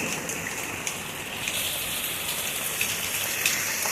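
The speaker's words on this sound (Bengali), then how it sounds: "খুব বৃষ্টি হচ্ছে, খুব বৃষ্টি হচ্ছে" Heavy rain pours down steadily and loudly, a dense continuous hiss of drops striking nearby surfaces with no voices.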